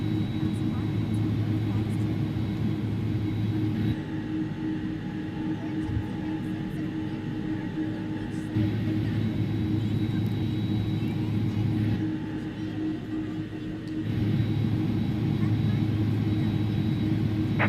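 Airbus A300-600 jet engines idle after start in X-Plane 11, a steady low rumble and whine filling the cockpit throughout, with a voice speaking over it.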